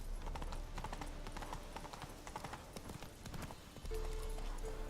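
Roach the horse from The Witcher 3 trots with steady hoof clip-clops in a quick, even rhythm. A low rumble swells near the end, and no one speaks.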